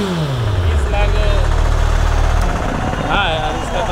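A Suzuki Hayabusa superbike engine running near a police stop, a loud close mid-pitched engine drone with a falling rev at the start, then settling into a steady idle, with voices talking over it.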